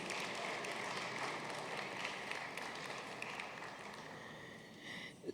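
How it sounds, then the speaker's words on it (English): An audience at an alumni gala applauds in a steady, continuous wash of clapping that holds at moderate level throughout, with a slight rise at the very end. "Another round of applause."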